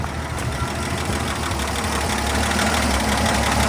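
An old engine idles steadily after being restarted for the first time in nearly two years, with a carburetor freshly sprayed with carb cleaner and a new coil, giving a continuous rough, knocking low rumble close by.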